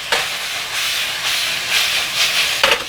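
Green onions tossed into a hot pan with asparagus during a shrimp and scallop stir fry, producing a loud steady hiss and sizzle that swells in waves, with a sharper burst near the end.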